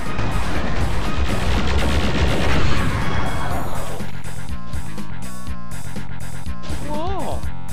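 Rapid gunfire from the first-person shooter Doom Reverie, a dense, loud barrage of overlapping shots for the first few seconds, then fading into game music and effects.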